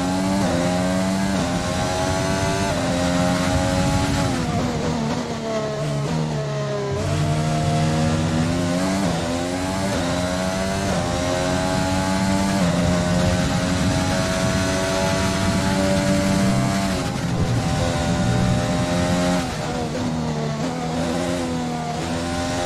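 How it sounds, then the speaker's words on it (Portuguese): Roaring V6 hybrid engine of an AlphaTauri Formula 1 car in the F1 2020 racing game at the Hungaroring, loud and continuous, with pitch sweeping up and down through gear changes and corners and no talk over it. "vou deixando vocês ouvirem aí o ronco do motor dessa AlphaTauri"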